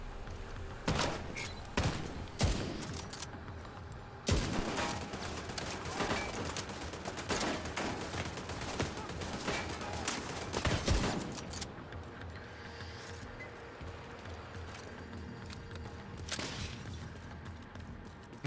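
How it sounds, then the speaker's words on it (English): Bursts of rapid automated gunfire from a deployed turret in a shooter game, sharp clustered volleys with gaps between them, loud and close, with scattered impacts. "somebody's putting out a turret? Please don't."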